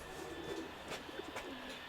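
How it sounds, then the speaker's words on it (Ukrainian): Pigeons coo softly in a loft, with a couple of low, rounded coos and faint bird calls rising briefly over quiet background noise. "Синій голуб упав."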